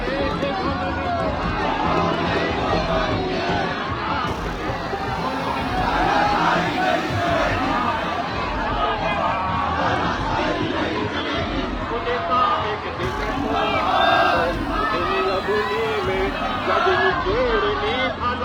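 Large protest rally crowd surging through the streets of Chaukhutia in Uttarakhand, a dense continuous roar of shouting and babbling voices with running footsteps, loud and sustained throughout with occasional swells.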